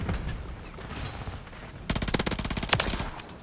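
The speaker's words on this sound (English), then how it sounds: "I am shooting the shit out of him every time, bro." Rapid automatic gunfire in Call of Duty, a bright dense burst of repeated shots erupting after a quieter stretch of game ambience, firing in tight rhythmic bursts at close range.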